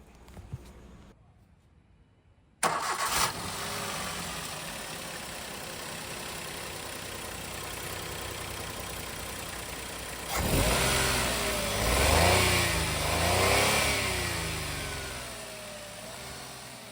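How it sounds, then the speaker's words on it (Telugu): A used Maruti Wagon R petrol engine cranks and starts, idles smoothly for several seconds, then revs up loudly a couple of times before settling. "వెహికల్ పెట్రోల్ ఇంజిన్ ఇది చాలా స్మూత్గా ఉంది"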